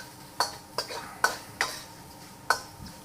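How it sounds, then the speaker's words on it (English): Cut scallions stir-fried for pork lo mein, five or six sharp utensil scrapes and clacks against the pan at irregular intervals over a faint sizzle. "we're adding a bunch of scallions now, the scallions that we cut up"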